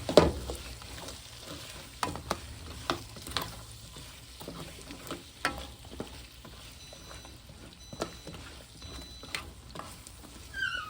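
Quiet frying of potatoes in vegetable oil with a soft sizzle and irregular pops and crackles, plus a few louder clatters, with no one talking.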